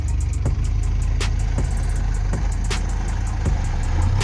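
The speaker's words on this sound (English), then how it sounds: "Reversing in the water." A budget 4x4 engine labours steadily as the vehicle reverses through deep water, a close, continuous low drone broken by splashes and knocks.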